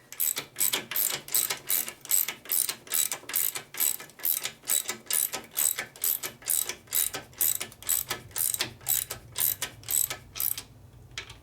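A hand ratchet tightens a fastener on a 1972 Harley Sportster ironhead engine during a case repair and rebuild, clicking in steady rapid bursts, close and clear, with no talk.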